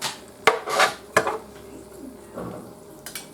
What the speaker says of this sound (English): Put on our lid.